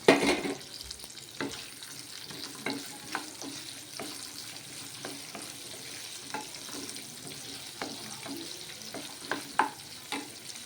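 Sliced onions and curry leaves frying in oil in a pan, a soft continuous sizzle punctuated by regular scraping stirs and light clinks of a spoon, close and without speech.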